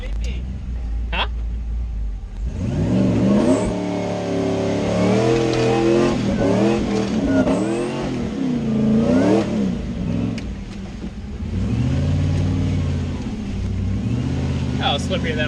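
Cummins-engined Nissan Patrol 4x4 revving hard with wheels spinning in mud, engine pitch rising and falling in repeated surges, loud and close, with voices talking over it.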